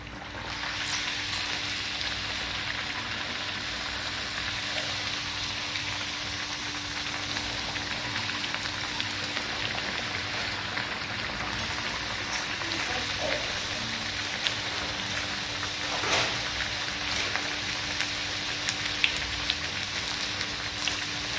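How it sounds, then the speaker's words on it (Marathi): Pumpkin gharge puris deep-frying in oil over a low to medium flame, giving a steady, even crackling sizzle that runs throughout with no talk over it. "तयार पुऱ्या लो टू मीडियम फ्लेमवर तळून घ्यायच्यात"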